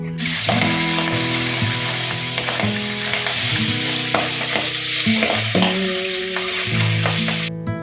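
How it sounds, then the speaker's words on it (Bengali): Fish frying in hot oil spatters loudly with a dense, continuous sizzle full of sharp crackles and pops, steady throughout with no voices. "তোমরা তো আওয়াজ শুনতে পেলে যে কি পরিমাণে মাছটা চারিদিকে একদম তেল ছিটে পড়ছে"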